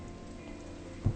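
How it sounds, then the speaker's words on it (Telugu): Heavy rain heard as a steady, muffled wash of noise, fairly faint, with a brief low thump near the end. "ఇంత వర్షంలో వెళ్ళడం అవసరమా?"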